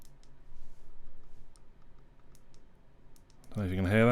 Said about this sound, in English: The volume buttons, wrong one, on this one, they're a little clicky.